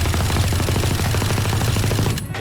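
Sustained automatic weapon fire from the video game Valorant, a rapid unbroken stream of close, loud shots lasting over two seconds before cutting off abruptly.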